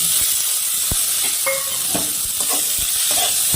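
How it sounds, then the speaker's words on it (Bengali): Chopped tomato hits hot oil with lightly fried onions in a pan, giving a loud, close, continuous sizzle and hiss with a few scraping stirs. "এখন এর মধ্যে আমি টমেটো কুচি দিয়ে দিব।"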